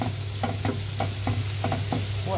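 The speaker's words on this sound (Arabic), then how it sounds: "بعد ما الفلفل اتشوح حلو كده اوسع واحط قطعه الثوم" Garlic and peppers stir-fried in a pan while cooking Alexandrian-style liver: a steady close sizzle under repeated scraping stirs of the utensil, with no talk.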